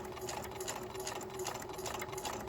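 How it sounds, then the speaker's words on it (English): A sewing machine stitches fabric with a steady, even mechanical whir and fast needle chatter, running continuously at close range. "Then I'm going to put my presser foot back down, sew forward a little bit."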